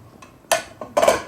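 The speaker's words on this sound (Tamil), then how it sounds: "இப்போ நான் வந்து மூடி போட போறேன்." A couple of short metallic clanks close by as a lid is set onto a pressure cooker, with a quiet pause between.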